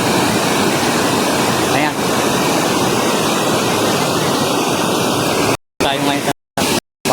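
Water rushing steadily over rocks at a hot spring river, a loud continuous wash close by, with a voice speaking briefly near the end.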